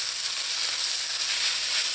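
A pie filling with chopped olives, capers and raisins sizzles in the pan as it is mixed, a steady bright hiss at even loudness with no distinct stirring strokes or voices.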